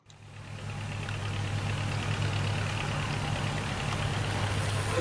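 Honda motorbike engine running steadily on a rural road, a close, continuous low throbbing drone that starts abruptly and holds even for the whole stretch.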